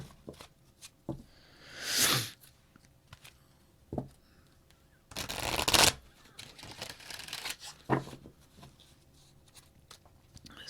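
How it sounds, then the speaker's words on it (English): Tarot cards are handled and shuffled in a few separate bursts, one longer riffle in the middle, with quiet pauses and soft rustling in between. "cards don't want to shuffle"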